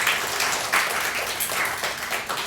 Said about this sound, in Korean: 우리 주은이의 또 미래를 위해서 격려의 박수 한번 합시다.